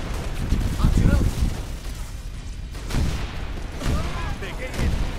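Halo: Reach gunfire on a battlefield, dense booming bursts and rumbling shots mixed with explosions, with voices talking over the din.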